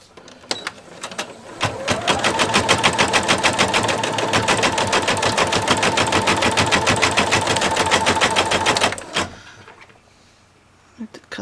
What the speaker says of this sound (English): Because of it being a single needle machine, it just gives me an opportunity not to have to change the thread